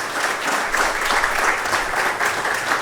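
Continuous crowd applause at an institute's quality week opening ceremony, a thick, even roar of many people clapping together, loud and close throughout with no voices over it.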